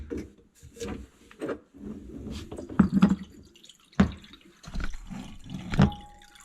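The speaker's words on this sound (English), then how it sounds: "As you can see, the water's draining out." Water drains from a dishwasher into a bowl: irregular drips and splashes come in uneven bursts with quiet gaps between them, faint and close.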